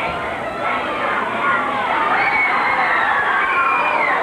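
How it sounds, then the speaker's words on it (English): A packed wrestling arena crowd in Seattle cheers and roars in a loud, continuous wash of voices that builds slightly over a few seconds. "we got a good crowd here, too. Another packed house."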